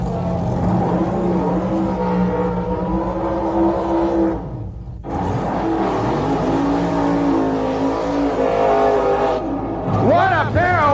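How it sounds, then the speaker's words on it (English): Supercharged Wild Bunch drag racing cars, including a fuel-injected aluminum Chevy-engined car, roar through burnouts with loud sustained engine revving and brief dips, while an announcer talks over the noise. "What a pair of wild burnouts by these crazy Wild Bunch cars."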